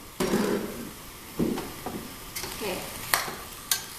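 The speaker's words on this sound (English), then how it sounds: "I like to cook my filling until the vegetables are fairly tender" Cabbage spring roll filling stirred and fried in a pan, with bursts of scraping and clattering at a steady stirring rhythm over a continuous soft sizzle, close and moderately loud.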